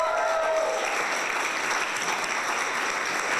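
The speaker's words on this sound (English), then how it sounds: "Give them a round of applause." A comedy club audience at Whiskey Creek in Medicine Hat breaks into full, steady applause. The dense clapping fills the room evenly throughout, with faint cheering mixed in.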